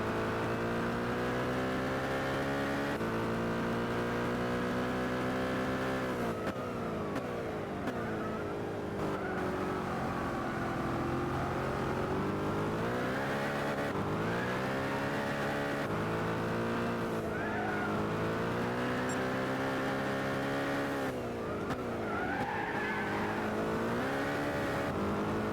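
A Chaparral 2J and a Toyota 7 race car scream along in Gran Turismo 6, their high-revving engines droning loud and continuous, pitch sweeping up and down through gear changes and corners.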